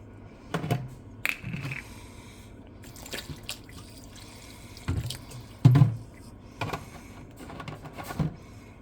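Water runs and drips into a kitchen sink filled with cold water where tomatoes are soaking, with soft splashes and intermittent drips, plus one louder splash, close by and fairly quiet.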